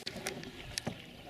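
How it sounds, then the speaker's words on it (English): A canoe is paddled on water at a garden lake, with soft splashing strokes and brief paddle dips at close range over a light breezy background. "Everybody get to paddling because we're losing our right side."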